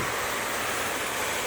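Basil blanching water pours steadily into a bowl of pesto pasta, a continuous close splashing wash with no talk.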